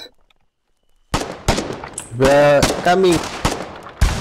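Gunfire and explosions in the Foxhole video game start after a near-silent opening with sharp separate shots and bangs, while a player shouts a word over the firing.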